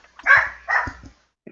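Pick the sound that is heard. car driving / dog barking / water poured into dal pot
dog barking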